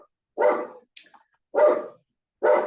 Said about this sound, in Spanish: cuando los perritos de mi calle también se callen, empezamos